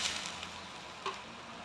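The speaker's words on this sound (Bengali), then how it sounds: "ফুটছে" Mango and papaya chutney, cooked with oil and water, boils in a pan with a faint, steady bubbling sizzle, brief and close, with no talking.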